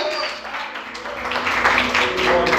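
A small church congregation in Brasilândia applauds during a Portuguese sermon, a sustained patter of clapping that swells slightly toward the end, with a voice faintly present beneath it.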